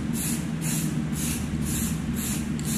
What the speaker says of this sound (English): give it this white spray paint